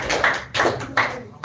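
An audience in a classroom-style speaking event gives a few sharp, close bursts of clapping in quick succession, loud and uneven, with a short pause between each burst.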